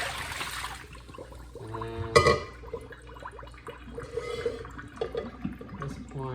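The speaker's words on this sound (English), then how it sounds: "Squeezing out the water from the cheesecloth." Water drips and splashes as a cheesecloth full of ground almonds is squeezed by hand while making almond milk, with irregular trickles and a sharper splash midway, and a brief word spoken.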